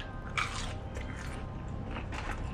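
A close bite into crunchy Popeyes fried chicken, a quick crisp crunch followed by faint soft chewing, quiet and without talk.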